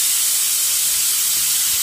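Pressure cooker releasing steam while cooking masoor dal, a loud continuous high hiss from the whistle that stays steady and close throughout, with no talk over it.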